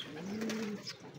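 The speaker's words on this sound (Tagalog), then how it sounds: "So yan yung mga kalapati natin na panglaro." Racing pigeons kept for summer races coo in a single low, throaty call, close and fairly clear, with faint chirps from other birds around.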